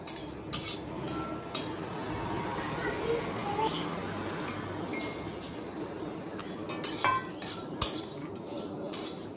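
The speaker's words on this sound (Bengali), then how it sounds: "তারপর আবার ভালো করে মিডিয়াম আঁচে ভেজে নেব আস্তে আস্তে।" Dried red chillies, cumin, coriander and fennel seeds being stirred and fried in a pan over medium heat, with scattered clinks of a utensil against metal over a soft steady background and a voice talking throughout.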